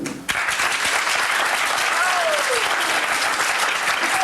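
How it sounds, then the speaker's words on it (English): Audience applause at a 1987 medical school first-year class play, a dense and loud wash of clapping that starts sharply and holds steady throughout. "Please applaud now if you like the faculty tricks better."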